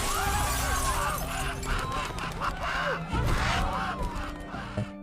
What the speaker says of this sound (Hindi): एक कौवा कांच की खिड़की को तोड़कर अंदर आ जाता है